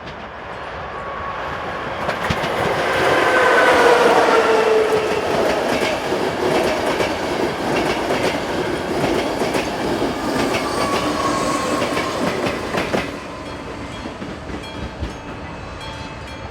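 Slovak passenger train hauled by locomotive 363136 with 361103 at the rear passes on the Liptovský Mikuláš line, a loud rumbling approach swelling at the start, steady clattering wagons and faint wheel squeal, then fading off with no voices.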